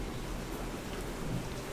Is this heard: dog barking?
no